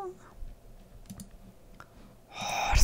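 A few sharp, dry mouse clicks, sparse and close, while playing the Sweet Amoris dating game, followed by a swell of louder game sound at the end.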